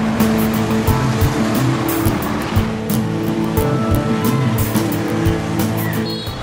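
Cars pass a petrol station beside a bike lane on Paral·lel in Barcelona, a continuous loud roar of road traffic with tyre hiss and repeated sharp transient clatters, no voices.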